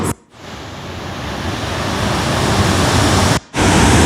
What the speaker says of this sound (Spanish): Miren la majestuosidad del Salto de Versalles. El sonido es abrumador y hasta acá todavía llega agua.